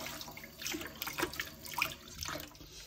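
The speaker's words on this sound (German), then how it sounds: "wir tun den einfach unter fließendem Wasser, so wie es in der Beschreibung steht vom Putzfuchs" Running tap water splashes steadily as a cleaning sponge is rinsed out under warm flow at a sink, with fluctuating gushes and squelches, fairly close and alone without talk.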